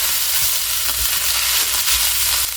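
Ground beef mixture sizzles and crackles steadily in an electric skillet while being stirred, a loud, close, continuous frying hiss with faint scraping.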